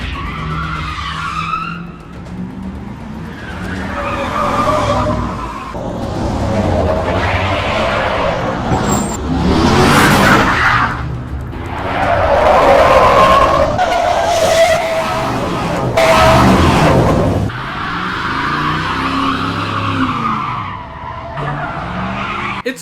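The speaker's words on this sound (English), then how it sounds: "which leads to one of the greatest car chases I've seen on TV" Tires skid and squeal repeatedly in a stunt car chase from the Arabic TV show Al-Khatar Ma'ahum, with loud screeching bursts sweeping up and down over revving engines.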